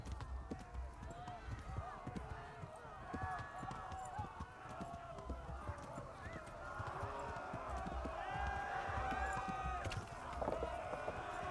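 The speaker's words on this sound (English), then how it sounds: "Why does my horse feel so slow?" Rapid galloping hoofbeats drum steadily beneath continuous game music and effects in Kingdom Come: Deliverance, with no pauses in the running rhythm.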